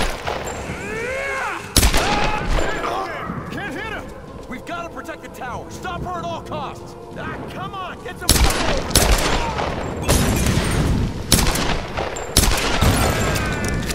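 Rapid bursts of gunfire in Tomb Raider crack repeatedly over a busy mix of game effects, with a voice talking through parts of it.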